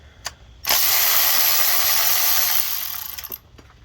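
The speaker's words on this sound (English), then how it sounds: "Gonna go ahead and take these 4 bolts out that I showed you earlier." Rapid ratchet clicking from a wrench loosening starter bolts on a Lexus SC430, a loud, close, continuous buzz of clicks lasting a few seconds, then trailing off into a few separate clicks.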